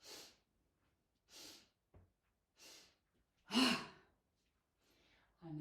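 Breaths during a yoga breathing exercise come as a series of airy bursts spaced about a second apart, ending in one stronger, deeper exhale, close and quiet with nothing else around.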